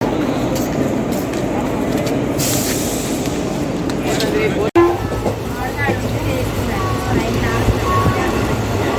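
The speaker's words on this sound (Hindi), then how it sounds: "ये है येरागुंटला जंक्शन और यहाँ Chennai central Mumbai Chhatrapati Shivaji Maharaj terminus superfast express करीब 15 मिनट देरी से पहुँची है" A Chennai Central–Mumbai CSMT superfast express pulls into Yerraguntla Junction, its rumble and clattering wheels filling the platform with a sharp horn-like tone and voices mixed in around it.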